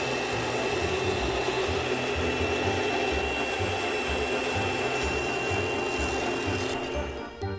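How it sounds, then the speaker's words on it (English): A Taurus 3 ring saw's blade grinds steadily as it cuts, a loud, continuous close-up buzz with a faint rhythmic rubbing underneath that stops abruptly at the end. "the ring blade grinds as it cuts, saving you time, material"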